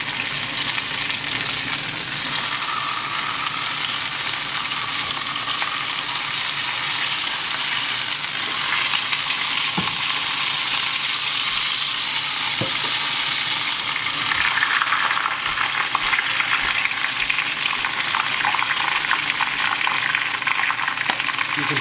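A ribeye steak sears in a very hot pan with its fat, giving a steady, loud sizzle and frying crackle that runs the whole time, with a few sharp pops from the pan and no talking.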